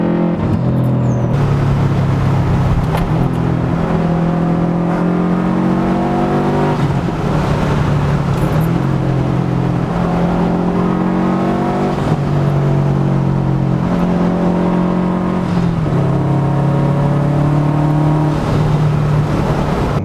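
Manual transmission car engine revving repeatedly during heel-toe downshifting, loud and close, with rising and falling pitch as each blip and gear change comes in a steady cycle.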